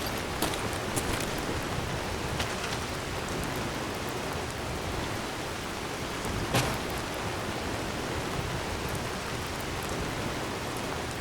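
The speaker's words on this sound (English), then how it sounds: "Always did like the rain." Steady rain in Fallout 4 hisses evenly and unbroken, with a faint brief crackle partway through and no voices.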